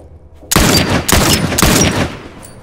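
Turret gunfire in The Last of Us, three loud, dense bursts of rapid shots in quick succession, close and harsh, with no talking.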